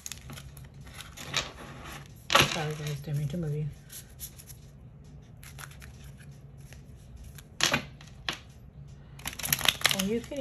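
Cards from an affirmation deck are shuffled in short papery bursts, with a louder riffle near the start and more flurries near the end, spread across a quiet stretch that has low background noise.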